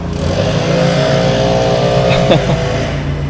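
A loud, steady engine drone of lawn care equipment running close by outside, with a brief rise in pitch near the end.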